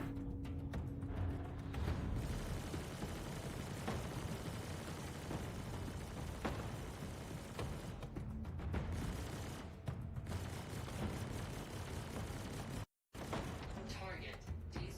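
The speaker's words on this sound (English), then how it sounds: "Am I getting shot at by these turrets?" Turret gunfire in the Star Citizen space game, a steady dense rattle of shots running almost the whole stretch with a brief dropout near the end, loud and continuous beneath occasional game noise.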